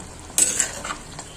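A brief scraping clatter of a spoon stirring anchovy curry in a pan over a soft sizzle, a couple of quick strokes.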